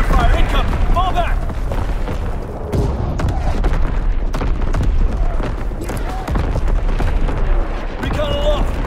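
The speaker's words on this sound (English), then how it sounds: "Enemy mortar fire incoming." Enemy mortar fire in Call of Duty: WWII on the winter Carentan map lands as repeated heavy booms and rumbling blasts under a continuous battle din, with in-game voices calling out over it.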